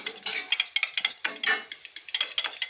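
Yogurt being whisked with water for Hyderabadi red chicken salan, a quick run of close, rhythmic stirring and light scraping strokes against a bowl, with no talking.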